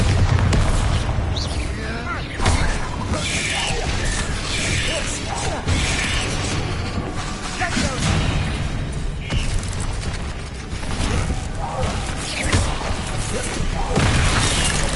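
Bombarda explosion spells in the video game Hogwarts Legacy, with repeated booms and crashing debris over continuous loud battle noise while a voice shouts spell names.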